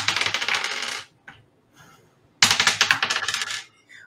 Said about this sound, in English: So you can roll one dice again.